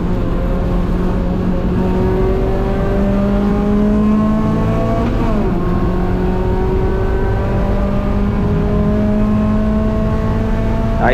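A race car at GingerMan track accelerates hard, its loud engine climbing through rising revs with a quick upshift midway and another near the end, continuous and close.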